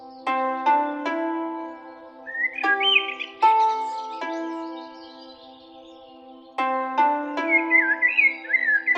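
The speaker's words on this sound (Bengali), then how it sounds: "ওটা তো মনে হচ্ছে একটা অসুস্থ পাখি" A bird calls in an animated story, giving short warbling chirps between bright, plucked musical notes that start and stop in bursts, clear and close, with no speech.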